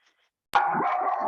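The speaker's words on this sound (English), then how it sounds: "sorry about my dog." A dog indoors gives a single sudden, drawn-out bark close to the microphone after near silence.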